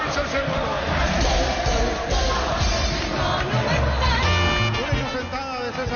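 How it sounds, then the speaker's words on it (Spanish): A football stadium crowd roars and applauds after a goal by Olimpia in a Paraguayan league match, a steady dense swell of cheering and clapping, with a commentator talking over it throughout. "Lo siente, lo aplaude el público para uno."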